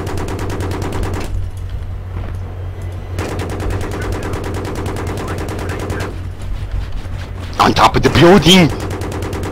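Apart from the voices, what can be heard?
gunfire in the video game Battlefield 3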